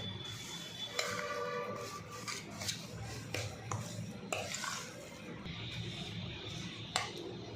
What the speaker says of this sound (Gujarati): આને મિક્સ કરવામાં ખાસ ધ્યાન રાખવાનું, જેથી કરીને એમાં ગોળના લમ્સ ના રહી જાય.